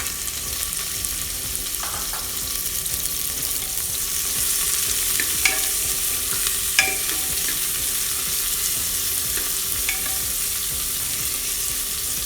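Onions sizzle and fry in hot oil for an Indian dal, a steady bright crackle throughout with occasional stirring clinks and scrapes, no voices.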